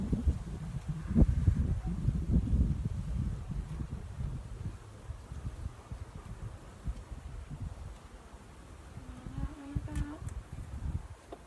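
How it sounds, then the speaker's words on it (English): Honeybees buzz steadily around a hive during a honey harvest, a dense close hum with occasional louder passes near the microphone and some rustling handling noise. "I put them back in the hive with the other bees"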